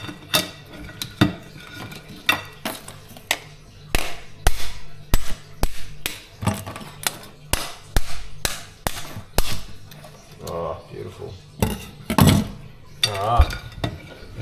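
A mud crab shell cracked with a hammer-like tool in a home kitchen, giving a run of sharp, close knocks and cracks in an irregular rhythm with brief clatters between blows.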